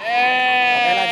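A local sheep bleats at a livestock market in Purwonegoro, Banjarnegara, one loud, close, sustained wavering cry lasting about a second.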